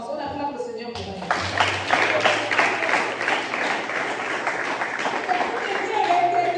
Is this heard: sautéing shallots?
no